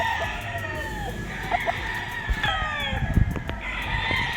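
Several White Kelso gamefowl roosters crow at a moderate distance on a game farm, their calls overlapping, with occasional clucks and faint background noise.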